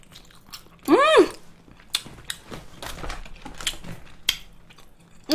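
Someone eats mala tang close to the microphone, with crunchy bites and wet chewing clicks scattered through the clip, and one short vocal exclamation near the start.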